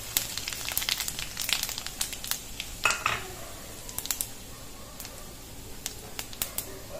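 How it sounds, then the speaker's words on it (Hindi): Whole cumin, a cinnamon piece, a dried red chili and a bay leaf crackle in hot oil in a home kitchen, with scattered sharp pops and spits over a faint steady sizzle. "तो इसमें हम डालते हैं आधी चम्मच जीरा, एक दालचीनी का टुकड़ा, एक लाल साबुत लाल मिर्च और एक तेज पत्ता, इन सबको हम गरम तेल में डाल देंगे।"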